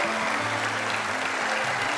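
A theatre audience applauding at a political speech, with steady, dense clapping from many hands, loud and continuous throughout.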